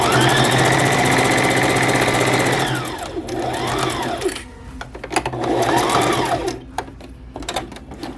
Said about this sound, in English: I like to back stitch at the corners